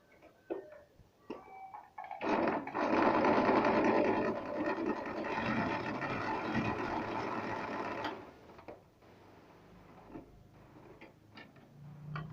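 Sewing machine stitching a small elastic band onto a hazmat suit, running in one steady continuous whirring burst of several seconds, close and loud, framed by quieter handling clicks before and after.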